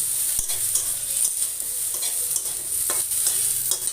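Eggplant fries in hot oil, giving a steady, close sizzle under a scraping spatula that stirs the pieces with occasional light clicks against the pan.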